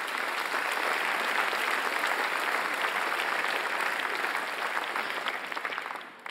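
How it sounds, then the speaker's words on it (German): Sustained applause from a cabaret audience, dense clapping at a steady level that tapers off at the end. "macht gerne Applaus nochmal"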